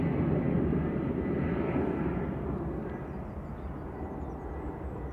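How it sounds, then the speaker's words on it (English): Jet2 Airbus A321neo arriving at Manchester Airport, a broad engine roar heard from a distance that starts out strongest and then fades slowly as the jet passes, with no voices. "Jet 2, A321 Neo G Sundee."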